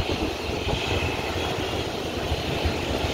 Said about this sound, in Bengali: দেখুন এখন এই টেক অফ করে বিমানটি।